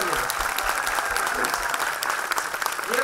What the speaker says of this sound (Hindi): एक बार उनकी तरफ से तालियां।